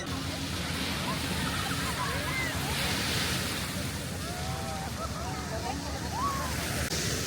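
Surf washing onto a busy beach in Marbella, a constant broadband roar of waves with wind buffeting the microphone and faint crowd voices mixed underneath.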